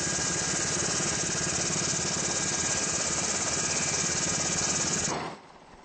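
Steady, loud rotor-and-engine drone of a National Guard helicopter overhead during Red River flooding, continuous and unbroken, then cutting off abruptly near the end.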